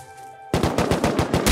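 Rapid automatic gunfire in the Rust survival game, a loud burst of about ten close shots in quick rhythm after a brief quiet lead-in, with no talking.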